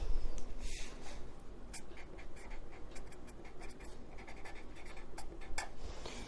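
Chalk or marker writing on a board during a teaching session produces faint, repeated short scratches and taps with a steady room noise underneath and no talking.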